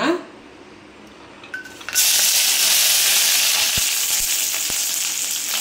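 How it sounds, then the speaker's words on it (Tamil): Chillies, ginger and garlic drop into hot oil and burst into a loud, hissing sizzle that rises sharply and then holds steady and close, with a few utensil taps and a voice speaking faintly. "இப்போ இந்த எண்ணெயிலே இது நல்லா வதங்கட்டும்"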